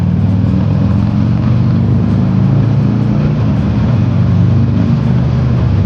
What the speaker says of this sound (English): Here comes a tunnel. Let's drop it down the gear too.